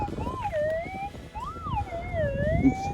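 A Minelab GPX 6000 gold detector on a mining claim gives warbling tones that rise and fall as the coil passes over a target, loud and close against a rough background hiss.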